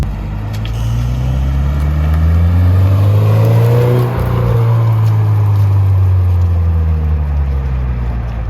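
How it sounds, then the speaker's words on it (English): A 2022 Subaru BRZ with an HKS Spec-L exhaust revs up and falls back, a loud, deep rumbling engine note that climbs and drops in pitch, heard close and alone without talk. "Even without the unequal length headers, this still sounds really good. It has this really nice rumble to it."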